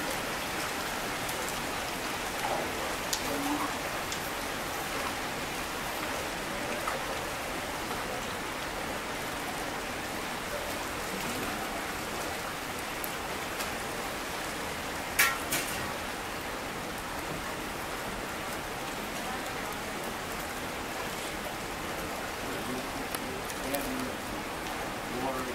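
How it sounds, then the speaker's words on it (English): Steady rain falls near a glacier in the Hubbard area, a continuous soft hiss of drops on surfaces with a few brief taps, fairly faint and even throughout. "Actually probably pretty lucky that it's raining today"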